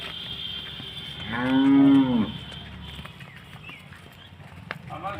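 A single loud, drawn-out moo from a buffalo rises and fades close by, over a steady background hum with faint thuds afterward.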